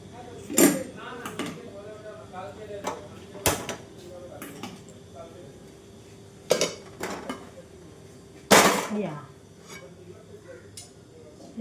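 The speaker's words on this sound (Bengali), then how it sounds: "এটা এই কড়াইটা এখানে দিই।" A large karai is set down and shifted about on a stove in a home kitchen, giving several sharp metallic clanks and knocks spaced a few seconds apart over a quiet room background.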